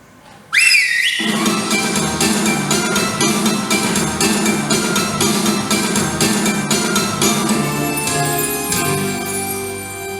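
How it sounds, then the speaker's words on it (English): A shrill whistle rises sharply, then a loud, dense wash of bright, tinkling musical tones carries on steadily for several seconds. "I'll give them a whistle."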